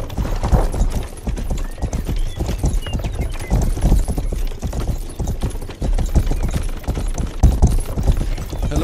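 Horse hooves clip-clopping in the medieval video game Rustler, loud and close in a steady rhythmic trot with occasional neighs.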